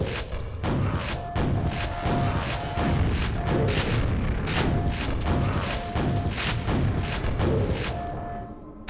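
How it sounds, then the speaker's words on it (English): Many grenades explode in Quake, a rapid string of heavy muffled booms and thuds close together, loud and continuous with no talk. "Oh my god, that's a lot of grenades that aren't mine."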